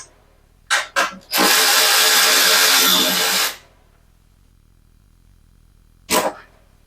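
Power tool backing out a shoulder bolt that holds a small engine's gas tank and shroud, two short whirring bursts, then a sustained close, loud whine of about two seconds, and a final short burst after a pause.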